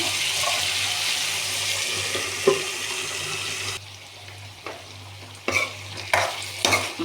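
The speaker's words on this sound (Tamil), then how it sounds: "இப்போ பூசணிக்காய் கொஞ்சம் தண்ணி விட்டு வேகும்." Pumpkin pieces cook in a pan with a little water, a continuous hiss and bubbling sizzle that drops abruptly, followed by a few close scrapes and clinks of a spoon stirring.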